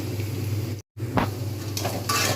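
Onions fry in a pan for a brinjal mash, frying steadily until lightly browned, a constant close sizzle with a few clinks and scrapes of a spoon stirring and one brief cut in the sound.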